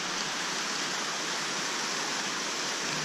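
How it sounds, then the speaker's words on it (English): A small mountain water stream on a high trekking route flows with a steady, even rushing hiss, close and constant with no pauses and no voices. "This is one of other small water streams."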